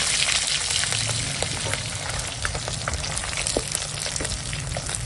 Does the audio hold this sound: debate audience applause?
no